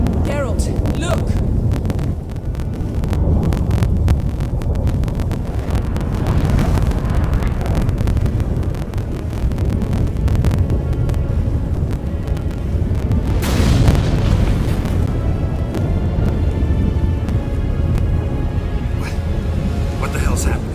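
A raging storm in The Witcher 3 video game: a loud, continuous roar of wind and rumbling booms with sharper surges, beneath excited voices of characters talking.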